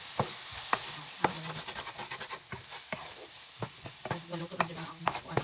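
Egg cooking with bitter gourd in a sizzling pan, a soft fry hiss under repeated scraping and tapping of a spatula stirring the mixture.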